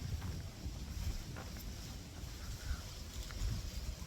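Wind blows steadily across an outdoor football club training ground in Gothenburg, a continuous low rumbling buffet on the microphone that swells slightly near the end, with no talking.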